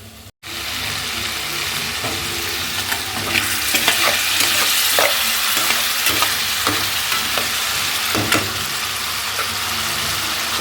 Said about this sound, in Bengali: দেখো আলুটা দিয়ে মশলাগুলো কষাচ্ছি